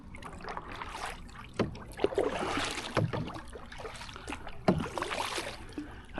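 Paddle knocks against the gunwales of an Old Town 119 Solo Sportsman on a pond, a few hollow thumps scattered among splashing strokes and water movement.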